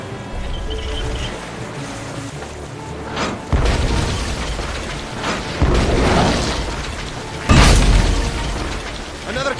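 Cannon fire in the Tales of Monkey Island video game: several deep booming blasts with rumbling tails, spaced a few seconds apart over a bed of game noise.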